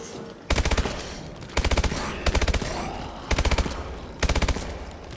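An AMR9 fires in Call of Duty: Advanced Warfare, four loud rapid bursts of automatic gunfire spaced roughly a second apart, each a tight string of shots.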